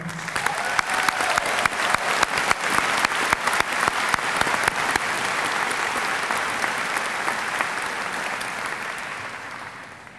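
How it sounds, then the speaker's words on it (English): Sustained applause from a large audience at a graduate school master's and Ph.D. diploma ceremony, dense clapping holding steady for about ten seconds before gradually thinning toward the end, with no talking. "I'd like to take a moment for a round of applause for all of you as well"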